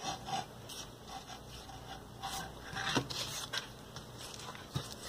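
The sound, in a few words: buttering a frying pan for eggs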